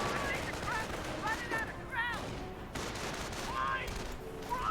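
Gunfire and bursts of machine-gun fire crackle through a Company of Heroes battle between German and American forces, rapid volleys under a continuous wash of battle noise, with game voice callouts mixed in.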